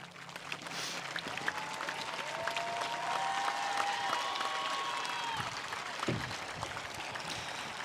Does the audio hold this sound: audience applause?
yes